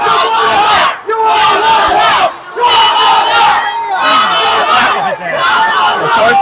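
A political rally crowd reacts loudly to a protester, with sustained shouting and yelling voices massed together in continuous bursts that dip briefly before surging again.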